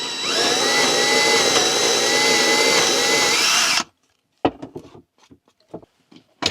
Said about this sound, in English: So let's get this hole drilled and get the screws in the wall and mount it to the wall.